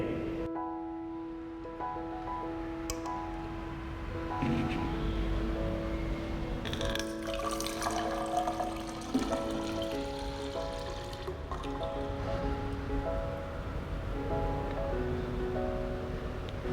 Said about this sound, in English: We now transfer this 500 milliliters of water into 1000 milliliters